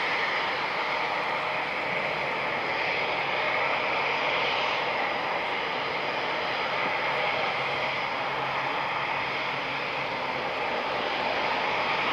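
An aircraft drones overhead near RAF Coningsby, a steady distant engine roar that holds for about twelve seconds with a slight swell in the middle, no talking.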